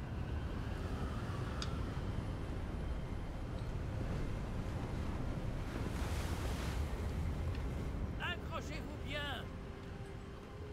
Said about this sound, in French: Un petit peu de vent, hein.